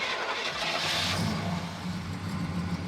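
A cheap abandoned muscle car rescued from a junkyard, its engine cranking and catching, then settling into a steady, rough-running rumble close by, with no voices over it.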